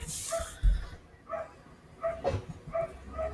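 Several short barks from dogs ring out at intervals, moderately distant and fairly faint, with a brief thump and light background noise between them.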